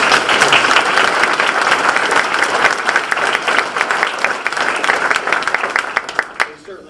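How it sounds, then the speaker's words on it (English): An audience at a university town hall claps steadily in a dense wash of applause that gradually thins and fades out near the end. "let's give them a round of applause"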